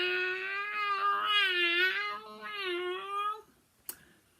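A voice imitates a cat with a long, wavering, whiny meow-like cry lasting several seconds, followed by a short sharp click after it stops.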